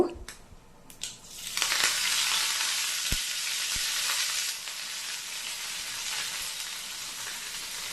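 Cumin seeds and curry leaves sizzle in hot oil, a loud, steady hiss that swells after the first second and holds throughout, with a few faint knocks near the pan.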